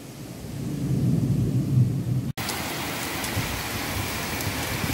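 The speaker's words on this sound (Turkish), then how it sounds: "Gürlemeler, şimşekler. Hem de nasıl korkunç düzeyde." Steady heavy rain pours throughout in Ardeşen, Rize, with a deep thunder rumble swelling in the first half before a brief cut, then dense rainfall continuing.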